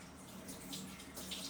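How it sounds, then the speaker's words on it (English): Water runs from a tap in a soft, steady hiss while hands are rinsed after handling kombucha, faint and continuous with slight splashing changes. "let's rinse my hands"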